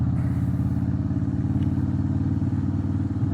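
A Harley-Davidson Breakout Softail motorcycle engine on a test ride gives a loud, steady, throbbing V-twin rumble at close range with a constant pulsing beat and no talk.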